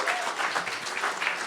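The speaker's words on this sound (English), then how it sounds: "give us a round of applause for being here" Applause from a live comedy-podcast audience in Los Angeles, a dense, steady wash of many hands clapping at even loudness throughout, with no voices over it.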